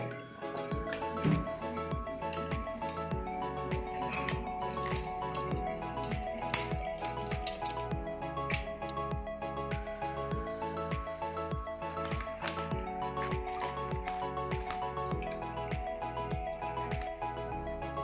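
Squeezed grapes strained by hand for homemade grape juice: a soft, continuous wet dripping and trickling with a steady rhythmic squish, quiet and close, with no talk.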